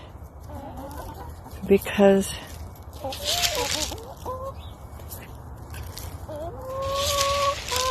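Backyard chickens cluck and chirp in short bursts while being fed thrown corn, a voice talking over them nearby.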